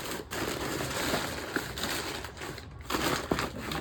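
Craft paper crumpled by hand up close, a continuous crinkling and crunching with bursts of louder crackle, no talking.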